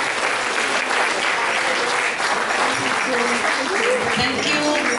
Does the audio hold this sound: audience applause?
yes